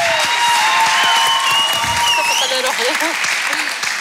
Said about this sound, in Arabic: تصفيق على وفاء